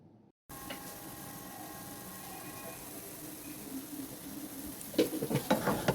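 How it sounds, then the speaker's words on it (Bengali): Palm sandesh mixture cooks and is stirred in a pan, giving a steady low sizzle with faint scraping that grows a little louder and more clattery toward the end. "এভাবে নেড়ে চেড়ে কিছুক্ষণের জন্য রান্না করব আর একটু আঠালো হলে তবে এটাকে নামিয়ে নিব"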